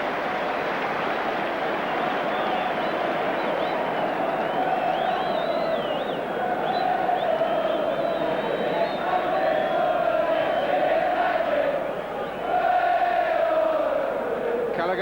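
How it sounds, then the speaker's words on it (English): A football crowd at Chelsea's Shed End during a Chelsea v Liverpool match gives a sustained, broad roar of applause, steady and moderately loud with a brief dip near the end. "drawing the applause from the shed"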